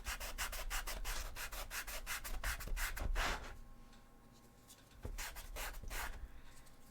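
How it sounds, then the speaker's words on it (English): Rapid back-and-forth sanding of a cosplay handle being shaped round, a brisk rhythmic rasping that pauses briefly, then resumes in shorter strokes. "I'm just trying to sand this to become some sort of circle."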